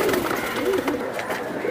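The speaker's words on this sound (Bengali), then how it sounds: "একদম পিওর কবুতর" Pure-bred tournament pigeons coo softly nearby, a few low throaty calls rising and falling over faint background noise.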